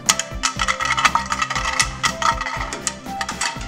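Plastic parts clatter as they drop out of an injection molding machine in a light, coin-like rattle of small hard pieces. A rhythmic, pulsing machine hum runs underneath throughout, with no talking.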